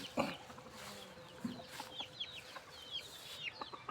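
Young stag roosters give soft, scattered clucks and short chirpy calls at a moderate distance, faint against a quiet farmyard background.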